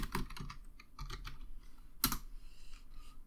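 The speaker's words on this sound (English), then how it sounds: "And hit enter on your keyboard." Fingers tap on a computer keyboard in short irregular bursts of close, crisp clicks, with a single louder keystroke standing out near the middle before a quieter stretch of lighter taps.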